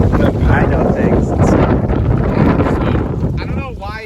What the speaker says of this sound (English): I don't know why it chose to be windy